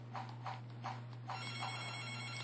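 An electronic telephone ringer sounds in repeated short bursts indoors over a steady low hum, the rings moderately loud, ending in a sustained high tone near the end.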